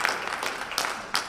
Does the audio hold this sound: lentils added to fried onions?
no